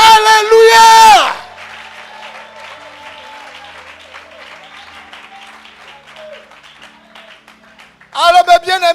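Church congregation cheering and applauding in acclamation of the Lord, a loud burst of clapping and shouts that fades under a single speaking voice, then erupts again at the end.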